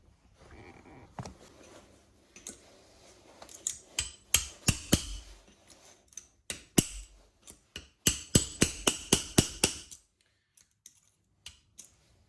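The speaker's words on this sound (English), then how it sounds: "So just turn the grease seal a bit and hit it. The wooden blocks will prevent it from sliding." Sharp, loud hammer blows on a motorcycle steering head bearing grease seal braced against wooden blocks, a Triumph Tiger 1050, striking in irregular bursts and then quick repeated runs of knocks before a few last taps.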